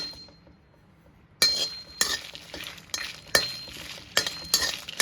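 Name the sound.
frying and stirring spices in a pan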